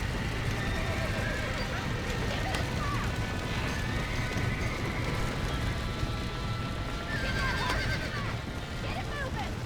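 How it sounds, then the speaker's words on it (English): Horse hooves clip-clopping steadily alongside occasional neighs, over a dense continuous background rumble, in the video game Red Dead Redemption. "Now let's save the horses."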